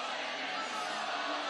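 Spectators at a Legends Football League match in Australia between Queensland Brigade and New South Wales Surge voice a sustained, even roar of disapproval at a referee's touchdown ruling, with no single voice standing out.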